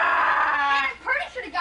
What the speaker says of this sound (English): It was screaming.